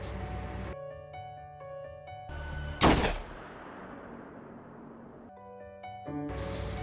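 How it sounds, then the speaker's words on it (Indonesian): A single loud gunshot rings out over a tense film score in the 2017 action movie John Wick: Chapter 2, a sharp blast followed by a long decaying echo before the music swells back. "John menembak kepalanya agar Gianna benar-benar meninggal"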